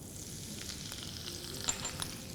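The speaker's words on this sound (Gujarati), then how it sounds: "રાઈનો વઘાર થાય એટલે આપણે એની અંદર લીલા મરચાં નાખશું" Green chillies dropped into a hot oil tempering of popping mustard seeds crackle at close range, a soft continuous sizzle with a few sharper spits.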